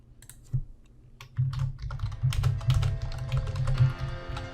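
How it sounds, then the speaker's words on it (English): Typing on a computer keyboard: a close, steady patter of clicky keystrokes that begins after a single tap and builds into continuous rapid typing. "Now you can just start typing."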